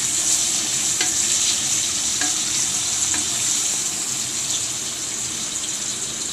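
Green chilies frying in a pan for vegetable pulao give a steady, dense sizzle that holds at an even level throughout, with a few faint clicks and stirring touches and no talking.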